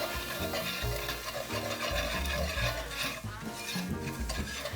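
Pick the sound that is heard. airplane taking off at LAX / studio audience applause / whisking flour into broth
whisking flour into broth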